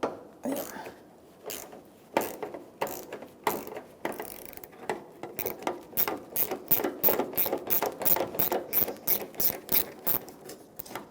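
A ratchet with a 10mm socket works a mounting nut on a 2000-2006 Toyota Tundra headlight assembly, giving sparse clicks at first, then a fast, steady run of close, sharp ratcheting clicks.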